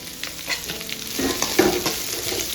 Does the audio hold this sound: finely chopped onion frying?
yes